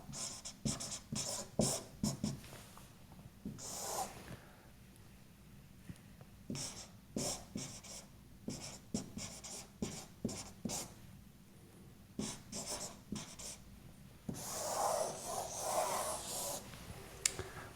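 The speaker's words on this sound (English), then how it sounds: "So let me write tangent of phi up here." A marker writing physics equations on a board, with scattered squeaky strokes and taps, some quick bursts and a longer scribbling stretch, close and fairly quiet with no voices.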